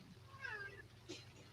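A cat meows once, a drawn-out wavering call, followed by a shorter, fainter sound, over a low steady hum.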